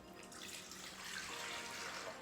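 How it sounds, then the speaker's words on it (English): Four cups of cold milk poured into a mixing bowl for banana pudding, a steady, close, continuous liquid stream with no voices. "we're going to begin by pouring 4 cups of cold milk into our mixing bowl"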